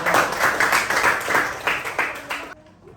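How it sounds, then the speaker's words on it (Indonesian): A classroom group applauds Group 2 during a coding and artificial intelligence job-training session, with dense, lively clapping for about two and a half seconds before it stops abruptly into quiet. "silakan berikan tepuk tangan untuk kelompok 2"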